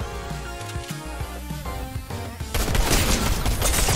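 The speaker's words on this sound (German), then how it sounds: "plötzlich kann ich auch schießen" Gunfire erupts in the video game Fortnite: scattered sharp shots over game music, then a dense, loud burst of rapid fire.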